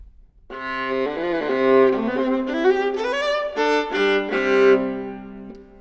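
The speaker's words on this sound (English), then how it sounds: "which allows us to create a beautiful sound of the viola." Viola bowed with a freshly rosined bow, a solo melodic line of sustained, singing notes with gentle slides, played close and clear with no talking.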